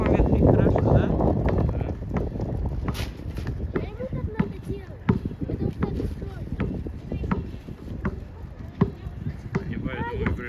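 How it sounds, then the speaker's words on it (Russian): Strong wind buffets the microphone on an outdoor basketball court where kids are trying to fly kites, a loud continuous low roar with gusts, while people talk throughout. "А как раз при таком ветре хорошо"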